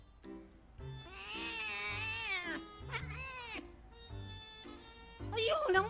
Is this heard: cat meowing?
yes